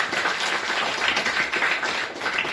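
A crowd claps for a retired teacher at a school alumni gathering, a dense, even burst of applause lasting a couple of seconds with no talking over it.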